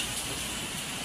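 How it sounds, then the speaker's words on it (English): Heavy rain drumming on a tropical glasshouse at a botanical garden in Wales, a dense, steady hiss of drops on the roof and surfaces, loud and continuous with no voices. "the rain is so heavy"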